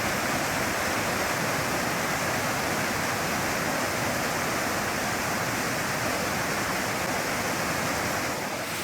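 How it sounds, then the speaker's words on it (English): A steady, heavy roar of falling water, loud and unbroken throughout, with no voices. "all these waterfalls aren't helping me keep going here and make good time"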